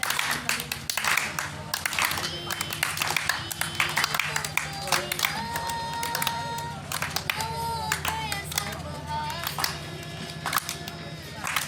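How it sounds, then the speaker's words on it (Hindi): An audience at a stadium event claps in scattered, uneven bursts, with people talking and crowd noise mixed in throughout. "बजाओ तालियां।"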